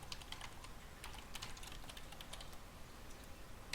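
Someone types a password on a computer keyboard while setting up a server admin account: a quick, uneven run of light, close key clicks over a faint background hum.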